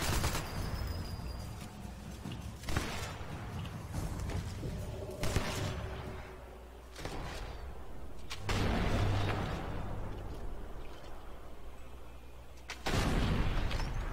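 Sniper rifle gunshots in the video game Sniper Elite 4, several sharp booming reports spaced a few seconds apart, each with a rolling echo, over low game ambience.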